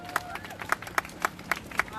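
An audience at a protest rally welcoming a guest speaker with evenly spaced, rhythmic claps, fairly sparse and close, with murmuring voices underneath.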